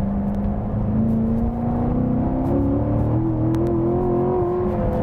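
Corvette C7 Stingray V8 engine accelerating hard on a narrow hill road, a loud steady roar with pitch rising smoothly as revs climb, close and continuous throughout.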